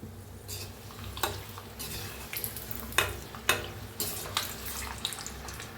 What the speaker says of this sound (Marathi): लसूण जरा चेचून का नाही तळून घ्या